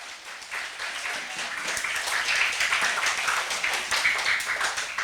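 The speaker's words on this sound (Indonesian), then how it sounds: "boleh tepuk tangannya dong" Audience clapping at a madrasah program event in Kaliwadas, a full, continuous round of hand claps that swells slightly and holds steady for several seconds, with no speech.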